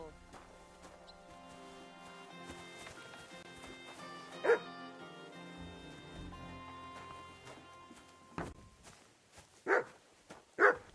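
A dog in the video game Kingdom Come: Deliverance 2 lets out a few sharp barks and yips near the end, after a stretch of quiet music with one earlier bark.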